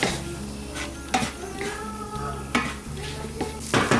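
Egg fried rice is stirred in a hot pan, a steady sizzle broken by a few sharp scrapes and clanks of the utensil against the metal, close and moderately loud.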